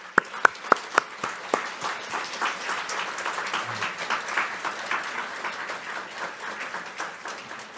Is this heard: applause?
yes